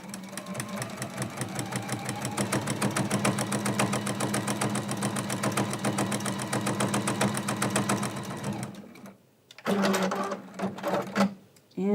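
A sewing machine stitches quilt sashing in a fast, even rapid-fire rhythm for about eight seconds, pauses briefly, then resumes in shorter bursts, close and clear.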